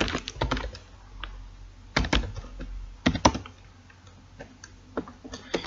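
Keys clatter on a computer keyboard while code is entered into a Python shell, in close, crisp bursts of rapid clicks broken by short pauses.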